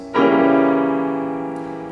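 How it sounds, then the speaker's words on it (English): A single sustained diminished seventh chord, struck once on a pitched instrument and left to ring with a slow, even decay, with no voices. "Here's a diminished seventh chord."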